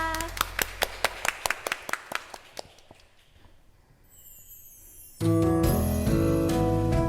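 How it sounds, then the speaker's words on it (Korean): Rhythmic hand clapping from a church congregation during a worship service, about a dozen sharp claps in a steady beat that fade out, then loud music swells in. "우리 하나님께 감사의 박수 올려드립니다."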